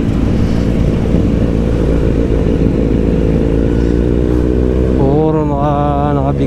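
Several big-bike motorcycles ride past in steady, loud engine drone, with one bike revving up near the end in a rising, wavering whine.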